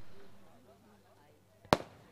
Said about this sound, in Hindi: और यह फटाखों की आतिशबाजी